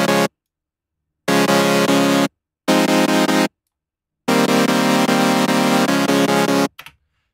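Future bass synth chords played in short, unsustained bursts: four loud, bright, dense chord stabs separated by silences, with a final brief tail at the end and no voices.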